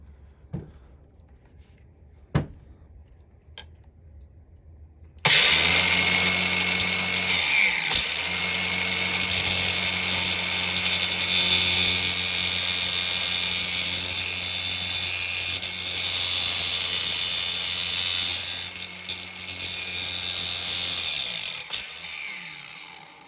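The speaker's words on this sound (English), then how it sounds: "There's no kind way to do this with an angle grinder" Angle grinder biting into an old Walden ratchet during a rough restoration, starting abruptly after a few quiet clicks and then screaming loud and continuous, with brief dips as the disc shifts against the metal.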